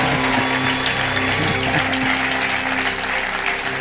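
Audience applause rings out steadily at a spoken event, a dense, continuous wash of clapping hands that holds at full level for the whole stretch, with faint voices mixed underneath.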